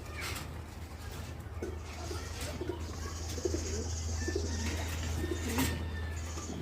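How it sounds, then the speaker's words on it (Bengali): Jira line pigeons coo softly and repeatedly at close range over a low, steady background hum, with no talking. "জিরা লাইনের কবুতর।"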